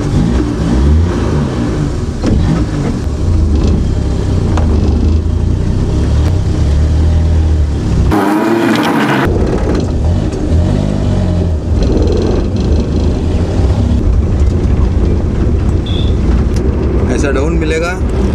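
A KTM Duke-style motorcycle with a low battery idles and revs close by, its engine running steadily throughout while someone talks over it.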